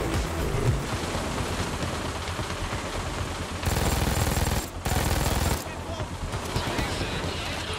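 Dense gunfire in the Payday 2 heist game, where a hostage is accidentally shot, with rapid automatic bursts running continuously and loudly, intensifying into a harsher volley partway through, with a voice talking underneath.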